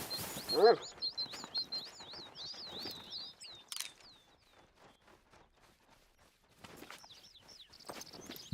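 Small birds chirp in rapid high twittering runs, fairly close, with scuffling steps and a brief voice early on, then fading before another burst of calls near the end.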